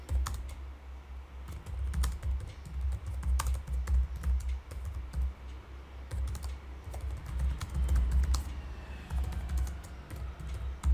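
Fast, steady typing on a computer keyboard while composing an email message, with dense irregular key clicks running throughout at close range and no talking.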